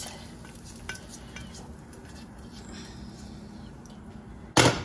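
Browned butter being stirred into a banana cookie mixture with a spoon, a steady soft scraping and swishing close by, with a louder clatter at the very end.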